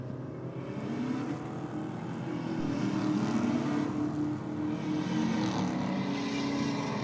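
A Mazda RX-7 and a Holden LC Torana drag racing side by side, a sustained moderately distant engine roar with rising tonal harmonics as the cars pull away, steady and unbroken.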